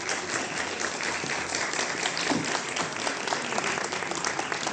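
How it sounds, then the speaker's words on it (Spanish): An audience at a consciousness-medicine conference in Chile applauds the lecturer. Dense, sustained clapping fills the room, even and continuous, with no talking over it. "Les pido por favor un aplauso al conferencista."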